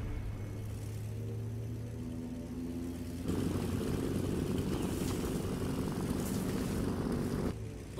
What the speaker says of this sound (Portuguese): O avião chegou.